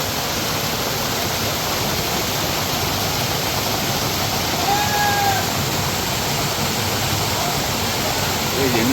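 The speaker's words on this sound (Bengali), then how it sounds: "এই যে উপর থেকে আসতেছে, পাহাড়ের উপর থেকে পানিটা আসতেছে, কয়েকটা ধাপে পানিটা আসছে" The Ladai waterfall cascades down a hill in several steps near Niladri Lake, Sunamganj, making a dense, even roar of falling water throughout, with a faint whistle briefly above it.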